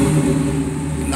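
A car engine with a tachometer fault idles and revs briefly, a low steady rumble with a slight rise in pitch, close and loud.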